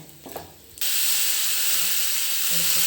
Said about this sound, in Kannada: ಒಗ್ಗರಣೆ ಹಾಕ್ಕೋಬೇಕು ನೋಡಿ ಫ್ರೆಂಡ್ಸ್